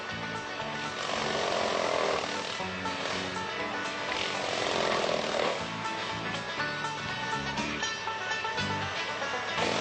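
Timber Tamer tree mower cutting through tall, thick trees with carbon steel blades, a loud, continuous churning and grinding roar with tonal engine hum, steady throughout without speech.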